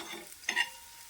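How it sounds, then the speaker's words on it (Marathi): Shallow-fried coriander vadi gets flipped in the pan: a quick scrape and clatter rises over a faint sizzle, all over within a second. "आता वड्यात ना आपण पलटून घेऊया"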